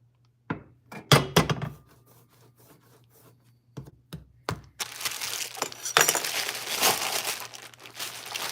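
Bags of pottery clay rustle and crinkle with sharp plastic crackles and thumps, first in sporadic bursts, then as a continuous louder rustling close by.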